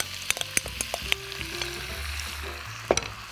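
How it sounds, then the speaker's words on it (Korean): Wild chive bulbs and seasoned beef stir-fried in a pan, a soft steady sizzle broken by scattered clicks and scrapes of stirring, close and fairly quiet with no voices. "알뿌리를 볶아서 향을 좀 내주겠습니다"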